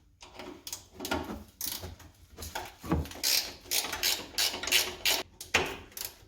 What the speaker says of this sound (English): We're going to remove the back two completely and just loosen this front one.